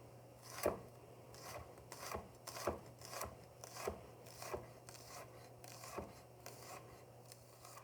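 A knife slices through a garlic clove on a cutting board, making about a dozen soft, evenly spaced cuts with a faint hum underneath and no talking.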